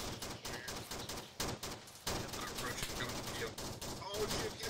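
Rapid gunfire in the video game Arma 3, a dense string of close, sharp automatic bursts and single shots crackling continuously with brief gaps, with faint voices underneath.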